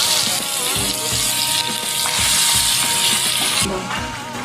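Meat dropped into hot oil already tempered with dried red chillies and bay leaves, frying with a loud, steady sizzle and gushing crackle that fills the whole moment, broken by stirring knocks, with no voices.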